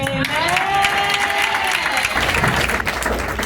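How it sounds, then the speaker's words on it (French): A wedding congregation applauds loudly, the clapping mixed with cheering voices and a sustained sung or held tone at the start, a thick crowd sound close by. "Applaudissons plus fort le Seigneur, plus fort pour le Seigneur"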